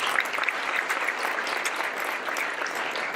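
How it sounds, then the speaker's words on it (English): An audience at a medical symposium applauds, a dense, steady clapping that fills the whole stretch at an even level. "Please join me in another round of applause"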